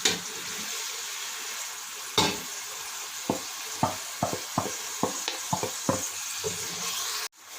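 Mutton pulao sizzling in a pot as spices are stirred in, with a steady frying hiss and a series of sharp scraping clinks from the spoon against the vessel, close up and without talk.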